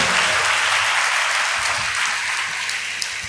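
A church congregation claps during a Sunday service, giving dense, sustained applause that stays loud and even throughout, with no speech over it.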